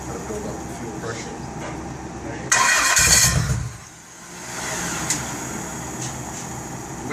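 A 1999 Dodge Stratus with a 2.4 L engine cranks briefly and loudly, then drops away to a quieter running hum in a workshop, with people talking nearby before and after.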